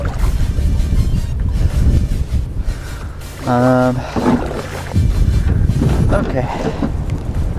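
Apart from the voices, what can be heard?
wind on the water while kayaking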